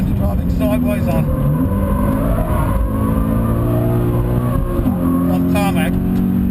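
A Subaru BRZ drifts sideways on tarmac at track speed, its engine droning loudly and shifting pitch steadily close by, with someone talking over it.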